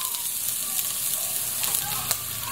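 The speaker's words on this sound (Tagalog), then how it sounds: "Gisa-gisa lang natin siya." Ginger and onion sauté in a pan with a bright, steady sizzle and faint stirring. A sharp tap comes late in the clip.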